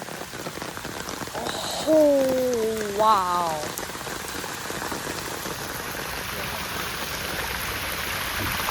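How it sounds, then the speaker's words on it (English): Heavy storm rain with floodwater cascading down stairs, a steady loud rushing wash that runs throughout while voices speak briefly. "Look at the stairs. They turned into a whole waterfall."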